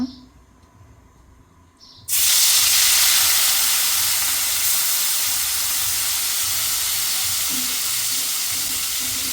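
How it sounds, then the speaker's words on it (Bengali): After a quiet couple of seconds, a loud, steady sizzle erupts and continues, the close, harsh hiss of fish frying in hot oil in a wok. "কড়াইতে তেল দিয়ে নিছে মাছগুলো ভাজি করব"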